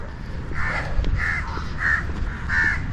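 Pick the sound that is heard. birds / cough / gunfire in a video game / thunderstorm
birds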